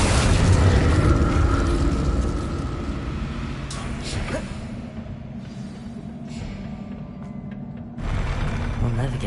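A fire spell bursts out in Hogwarts Legacy as a loud, roaring whoosh that swells and then fades over several seconds, with a second surge of rumbling flame near the end beneath game ambience.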